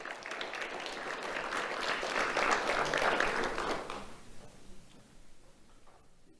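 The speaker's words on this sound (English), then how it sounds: "Let's have a round of applause for Xander Gonzalez." An audience applauds a young award recipient at a sheriff's office ceremony, clapping swelling and then fading away to near quiet.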